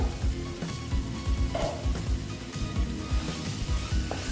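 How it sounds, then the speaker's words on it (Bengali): Masala spices sauté in a pan for a soybean curry, giving a steady sizzle broken by rhythmic scraping as the mixture is stirred, close and moderately loud. "আস্তে আস্তে একটু মশলাটা কষিয়ে নিচ্ছি"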